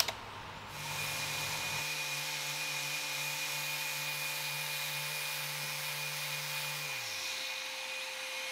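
A steady, droning power sander runs continuously with a constant motor hum and faint rasping against poplar wood, winding down near the end.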